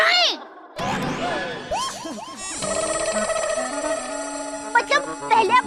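In a sitcom household scene, a phone ringtone chimes repeatedly while several people talk over and around it.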